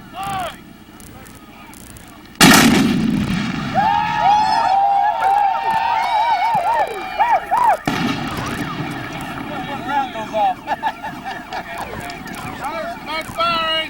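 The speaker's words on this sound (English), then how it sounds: "American Battalion, fire!" Battalion volley at a military reenactment: one sudden loud blast cracks out, then a second burst follows amid wind noise and shouted commands.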